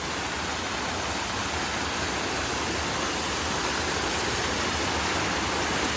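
A rain-swollen stream or waterfall at Poinsett State Park in Wedgefield, South Carolina, rushes after a morning of heavy downpour, giving a loud, dense, unbroken roar of flowing water close by, with no talking.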